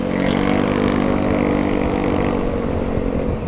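A Motorstar ADV175 motorcycle engine runs at a steady, continuous drone, close and fairly loud, holding an even pitch throughout with no talking over it.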